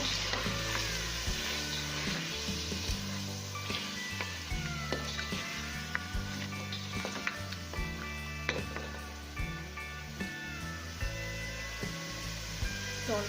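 Meat for Sulemani karahi fries in a pan with a steady, close sizzle, marked by occasional stirring knocks and scrapes, and a low tonal hum runs underneath.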